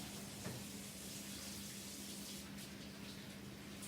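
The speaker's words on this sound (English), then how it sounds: "I'm going to wash my hands." Steady broadband hiss of water running from a kitchen tap during hand washing, continuous and close, with no talk over it.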